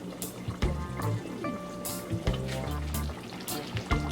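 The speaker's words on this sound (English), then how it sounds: "so I'm just gonna let this stay and boil for about 10 to 15 minutes" A pot of Jamaican pumpkin soup simmers on a lowered flame, giving a steady bubbling sizzle with occasional soft knocks and clinks close by, and no voices over it.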